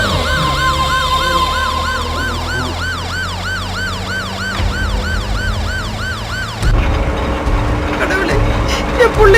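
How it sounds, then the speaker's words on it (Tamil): A wailing ambulance siren rises and falls in steady cycles over traffic rumble, loud and close, then cuts off abruptly as road noise continues. "சைரன் சவுண்ட் கேக்குது."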